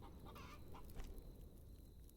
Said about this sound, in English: Chicken, let me take your egg.